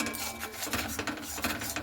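Spoon stirring tomato paste with turmeric and salt in a pan, quick scraping and light clinks repeating in an irregular rhythm at moderate, close volume.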